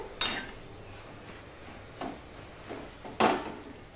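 Vegetables being stirred and mashed in a pot over a low gas flame: several distinct scraping, clattering strokes of a utensil against the pot, spaced apart over a quiet simmer, with no speech.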